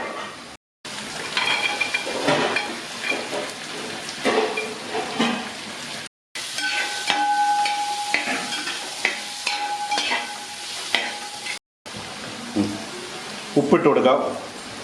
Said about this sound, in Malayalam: ചെറുള്ളി, സവാള, കറിവേപ്പില, പച്ചമുളക് ഇത്രയും സാധനം ഇതിനകത്തേക്ക് ഇട്ട് കൊടുക്കാം.